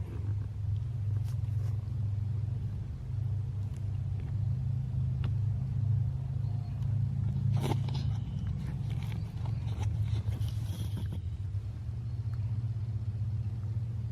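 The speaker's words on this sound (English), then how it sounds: "That's the motor" An old motor found in a shed hums and rumbles steadily at a loud, constant level, with intermittent clattering and knocking over the top and no talking.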